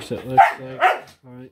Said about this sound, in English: Sorry about that. That is my dog.